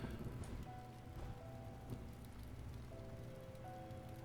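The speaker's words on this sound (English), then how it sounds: "Healing Rain helps the elementals too." Steady patter of rain from the Healing Rain spell in a fantasy video game, a continuous, even wash of droplets with faint tonal game cues layered over it, holding at moderate level throughout.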